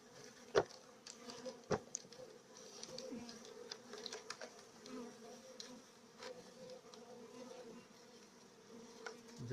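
Honeybees and drones flying around an apiary on a fine day, a faint steady buzzing of many insects with a few louder passes and small knocks close by.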